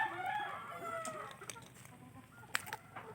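Rhode Island Red rooster crowing in a backyard flock, a rising, drawn-out call at moderate distance with a few soft clucks and sharp calls after it, no one speaking.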